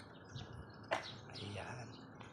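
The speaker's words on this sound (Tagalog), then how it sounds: "may narinig ba kayo ng mga ibon?" Birds chirp outdoors during a morning walk, a few faint tweets and calls scattered over a quiet background with one sharper chirp near the middle.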